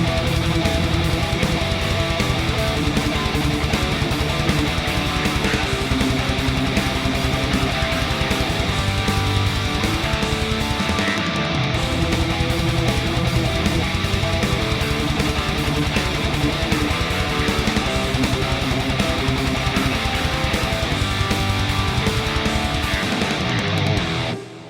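Distorted electric guitar power chords in a hard rock style, loud and dense throughout, sustained riffing with drums pounding underneath and no talking.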